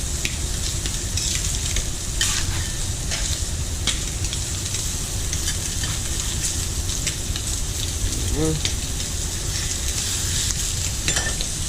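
Egg and bacon sizzling on a hot grill for an Aussie burger, a steady dense crackle filling the whole stretch at close range, with a few soft scraping touches and a brief murmur of talk underneath.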